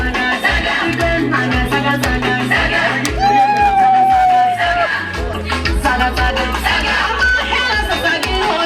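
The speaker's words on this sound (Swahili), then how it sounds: "Vigelegele jamani." Festive wedding crowd with women's high trilling ululation rising over the celebration, a sustained warbling cry, loud and close, amid continuous crowd noise and chatter.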